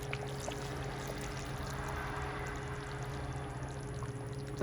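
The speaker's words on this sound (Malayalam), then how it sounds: "ഞാനിതിലേക്ക് 1-ാം പാൽ ചേർക്കാൻ പോവാം." Thick first coconut milk pours steadily into a pot of Kerala chicken curry, a smooth continuous liquid flow with a faint hum underneath and no talking.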